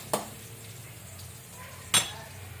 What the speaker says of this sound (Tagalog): Kita nyo na kung paano ko hinalo.